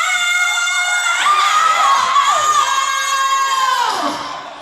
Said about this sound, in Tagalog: Sobrang excited yung crowd